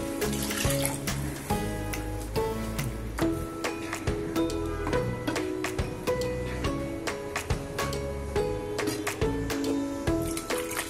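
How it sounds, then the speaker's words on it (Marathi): Water poured into simmering dal tadka in a pan makes a soft splashing trickle with intermittent clinks, under fairly prominent background music and with no talk. "पाणी घालूया"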